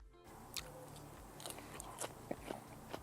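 Close, crisp crunching bites and chewing of sunflower microgreens, a few distinct crunches spread over a few seconds.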